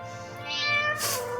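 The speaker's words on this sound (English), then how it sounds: "can you hear the meowing?" A game cat in Stationeers gives a rising meow followed by a second, brighter cry, heard clearly over a constant low background drone.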